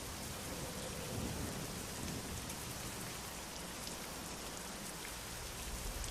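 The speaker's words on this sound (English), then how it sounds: "rainy day." Steady heavy rain pours in American Truck Simulator, a dense continuous hiss of drops with low rumbling underneath, constant and even throughout with no talk.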